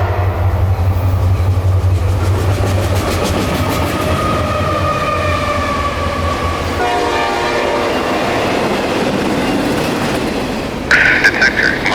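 A CSX freight train rumbles past at night in Florida, a loud continuous roar of engines and rolling cars with rail clatter, and a horn-like tone rising near the end.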